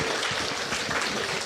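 A conference crowd at the Shamiri Summit 2025 claps for its panelists, a dense, continuous wash of applause that holds at a steady level from start to finish.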